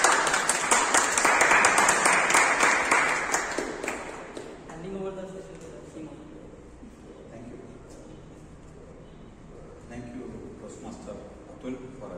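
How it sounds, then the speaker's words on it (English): Audience applause at the close of a club meeting session, loud dense clapping for about four seconds that then fades, leaving quieter room sounds and talk. "A big round of applause to everyone"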